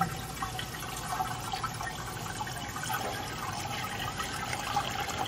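Liquid for a lemon Italian ice mixture pours steadily into a six-quart ice cream maker, a continuous close splashing and trickling stream with faint drips and no talk over it.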